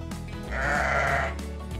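A sheep gives a single drawn-out bleat, close and clear, over a steady background bed.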